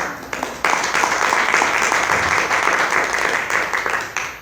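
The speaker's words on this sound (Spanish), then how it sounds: "Un aplauso a Cristo" A church congregation at an evening Christian seminary Bible study breaks into applause, starting with a few scattered claps, then swelling into sustained, dense clapping that gradually tapers off toward the end, heard alone without talking.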